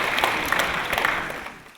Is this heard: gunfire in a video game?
no